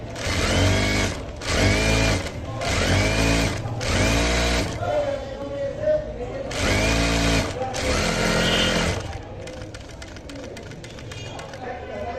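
A sewing machine stitches pajama fabric in several loud, rapid mechanical bursts of about a second each, separated by short pauses, then fades into quieter handling noise at the end.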